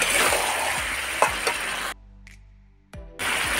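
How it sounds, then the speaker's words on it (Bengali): Potatoes and Malabar spinach stems sizzle and are stirred in a frying pan, loud dense frying broken by a brief near-silent pause and clinks, then the sizzle resumes. "এবারে আলু আর পুঁই শাক ডাঁটাটা আমি দিয়ে দিচ্ছি, দিয়ে ভালোভাবে কষিয়ে নেব।"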